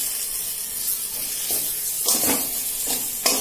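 Mashed potatoes drop into samosa filling frying in a pan, a close, continuous hiss and sizzle with a few soft thumps and scraping stirs, no talking.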